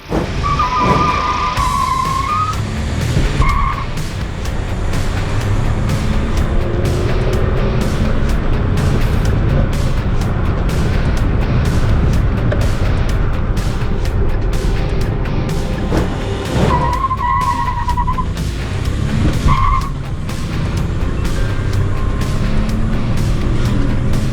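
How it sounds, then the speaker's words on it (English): Engines of a Volkswagen Polo 1.0 TSI Turbo and a Hyundai hot hatch roar loudly and continuously as they accelerate hard in a drag race, with a couple of brief tire squeals cutting through the engine noise. "it's time for a drag race between both the cars."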